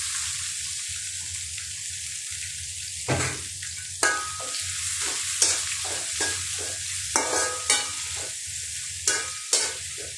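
Onions frying in a pot with cinnamon and bay leaf, a steady close sizzle with repeated scraping stirs breaking through at irregular intervals; no one talks.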